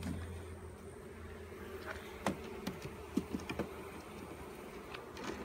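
Honey bees buzzing around hive frames during a colony split, a soft continuous drone close by with scattered clicks and taps from the frames being handled.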